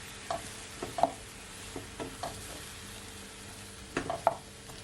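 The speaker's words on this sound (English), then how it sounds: "I wanna give it a stir." Fried apple pie filling sizzles softly in a pan while a utensil stirs it, with a few close, sharp scrapes and clinks spaced over the quiet frying hiss.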